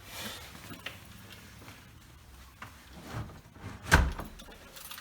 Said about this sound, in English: Oop, door.